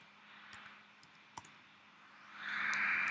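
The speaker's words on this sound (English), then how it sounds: "then we're going to click once again and go -10" A few sharp mouse clicks sound in a quiet room while drafting in CAD software, isolated and spaced apart, with a soft hum rising toward the end.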